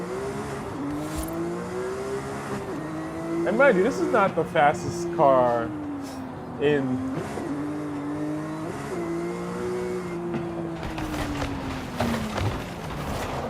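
A Porsche GT3 RS engine revs hard on a race track, pitch climbing and falling through gear changes with a burst of crashing impacts midway, while someone talks over it throughout.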